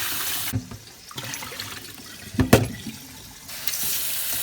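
Tap water running over peeled, deveined chiles in a kitchen sink, a soft hiss that swells and fades, with a few splashy thumps as the peppers are handled.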